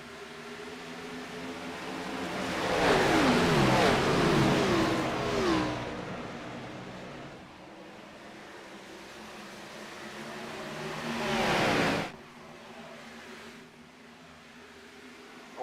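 Race cars at Homestead-Miami Speedway in a NASCAR iRacing Grand National Series race, engines droning and revving loudly as the pack passes close by, fading to a steadier hum before a second surge near the end, with no talk.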